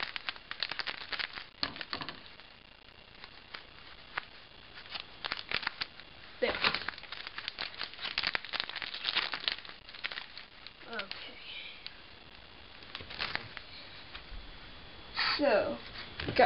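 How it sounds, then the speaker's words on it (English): A Magic: The Gathering booster pack from a 2013 Deckbuilding Toolkit is cut open with scissors, giving close, intermittent crinkling and tearing of foil wrapper in bursts, with a person talking softly in between. "Got this handy dandy scissors and cut the booster pack open."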